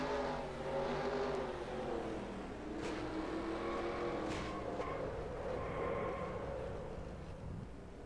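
Onboard engine of the heavily damaged number 29 stock car in the NR2003 racing game, a continuous droning roar whose pitch rises and falls with throttle, with no voices.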